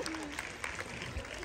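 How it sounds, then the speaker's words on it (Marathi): An audience claps briefly and fairly faintly at a Marathi comedy ukhane session, with voices mixed into the scattered applause. "टाळ्या वाजवा वहिनीसाठी"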